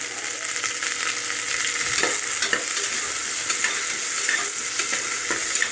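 Finely chopped onions with mustard seeds and curry leaves sizzle steadily in a pan for sambar, while a spoon stirs and scrapes them in repeated soft strokes throughout.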